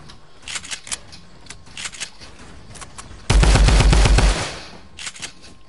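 Automatic gunfire in a Fortnite match, one loud sustained burst of rapid shots lasting about a second, close and dominant, set between quieter scattered in-game clicks and footsteps.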